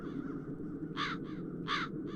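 Crows cawing in the video game The Dark Eye: Chains of Satinav: two loud, harsh caw bursts with shorter echoing follow-ups over a steady low ambient game drone, no voices.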